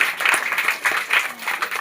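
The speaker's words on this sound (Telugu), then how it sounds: "గట్టిగా చప్పట్లు కొట్టిన ప్రభు యేసుక్రీస్తు వారికి" A church congregation at a semi-Christmas celebration claps loudly together, a short burst of dense, ragged applause with uneven swells.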